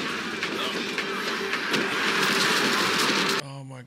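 Loud, steady rumble and rattle of a moving train from the film Train to Busan fills the scene, with voices underneath, before it cuts abruptly to quieter sound near the end.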